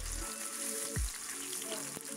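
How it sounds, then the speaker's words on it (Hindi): Shrimp sizzle in a pan for a kerala home-cooked meal, a steady close frying hiss with a few clinks of utensils, no talking. "हम साथ में कर लेते हैं थोड़ा सा श्रिम्प को फ्राई।"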